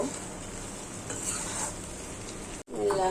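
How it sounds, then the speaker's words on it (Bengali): Steady frying sizzle as a spatula scrapes and stirs okra in a pan, close by, briefly cutting out near the end. "এই আমার ঢেঁড়সটি এখন নাড়া দেব।"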